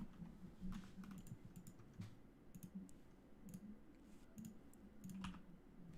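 Computer keyboard typing, with rapid uneven key clicks and a few sharper button clicks, fairly quiet and close, over a low background hum.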